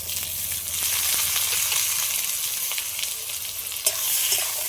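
Salt, turmeric, tomato and green chilli frying with potatoes in a pan for a large rohu fish recipe, a constant close sizzle with occasional stirring scrapes and one sharp clack near the end, no voices.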